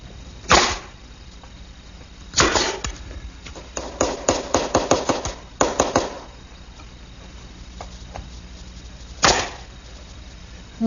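Finish nails 1.25 inches long are hammered into wooden shelves slipped into dadoes of a Delft rack: close, sharp strikes spaced apart, with a quick run of rapid blows in the middle, and no talk.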